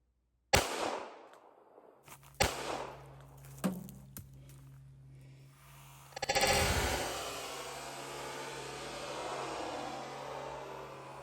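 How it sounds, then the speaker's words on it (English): Several sharp, loud shots from a 9mm semi-automatic handgun during caliber testing, one near blast followed by a few more cracks and then a louder report with a long spreading splash and ringing tail. "Now let's shoot the 9mm."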